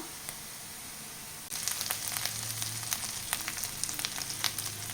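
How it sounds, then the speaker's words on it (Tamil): Onions with ginger-garlic paste sautéing in a pan for a spinach paneer gravy, a steady close sizzle and crackle that grows louder partway through, with light scraping and no voices. "வெங்காயம் நல்லா வதங்கட்டும் நல்லா கலந்து விட்டுக்கலாம்"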